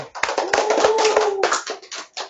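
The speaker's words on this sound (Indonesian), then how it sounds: "Nah, kasih aplaus buat Mbak Made." Classroom applause for a student, a short burst of many hands clapping close by, dense and uneven for about a second and a half before thinning out into a few scattered claps.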